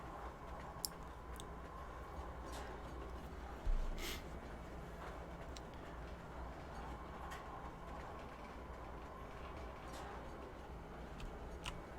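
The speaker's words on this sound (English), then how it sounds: "And I can hear the train. It's actually making noise." Night-time train in the video game Star Citizen, running as a faint, steady low rumble with light intermittent clicks and ticks, one brief louder knock near the start, no voices.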